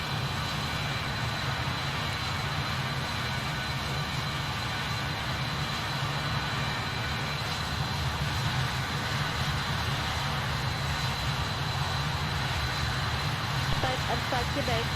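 BAE-146 jet engines in a flight simulator game, a steady, dense roar that holds constant for the full stretch, with someone talking quietly over it.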